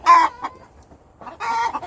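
Chickens in a coop cluck loudly and close by in two bursts separated by a short quiet gap, with a rooster-like call mixed in and no talking.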